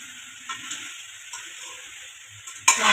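Masala of onion and tomato paste frying in a pan, a soft steady sizzle with faint stirring clicks and a louder scrape near the end, no voices.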